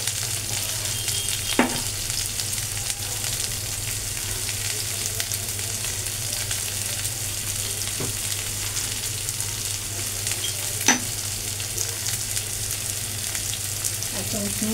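Spices with turmeric sizzle steadily in a hot pan, and a few sharp scrapes and taps from stirring break through the close, continuous frying.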